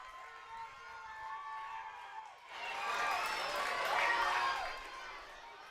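A crowd at a Glens Falls Dragons baseball game against the Albany Athletics swells from a quieter stretch under a voice into a broad, lively roar of cheering and chatter that rises and then eases.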